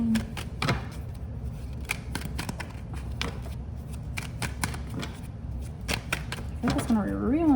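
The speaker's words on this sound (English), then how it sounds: "I'm trying to shuffle them." A deck of cards is shuffled by hand in a run of crisp riffles and flicks, close and fairly quiet, while someone speaks over part of it.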